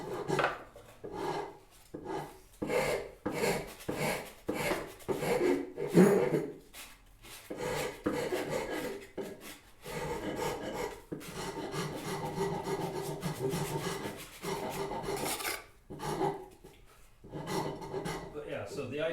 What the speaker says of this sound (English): the rasp can be like way louder